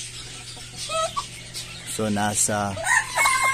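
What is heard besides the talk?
turkeys clucking in a backyard pen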